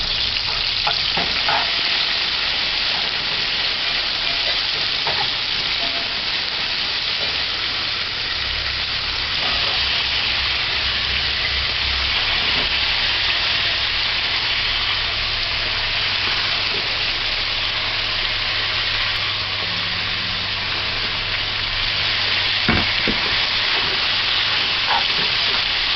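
Shredded cabbage with pimento seed and pepper sizzles and fries in a pot, a steady loud hiss running unbroken with occasional stirring scrapes and pops, no talking.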